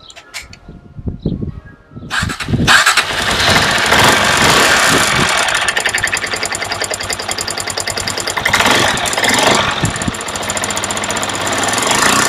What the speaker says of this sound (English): So put it back together now and give it a test. Turn it over a few times and then recheck it.